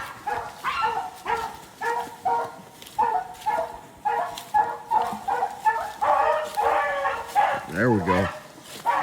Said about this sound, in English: Hear them puppy voices in there?